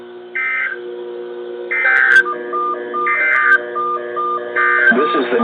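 A NOAA Weather Radio emergency alert tone: loud, repeated electronic two-tone beeps in regular bursts, with a shorter pulsing tone between them and a synthetic voice starting at the end.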